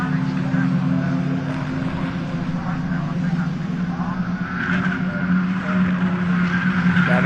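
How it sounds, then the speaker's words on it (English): TCR touring race cars at Donington Park's old hairpin, engines roaring loudly and continuously, with a steady high tyre squeal woven through the engine drone as the cars brake and turn at the edge of grip. "You can hear the tyres squealing."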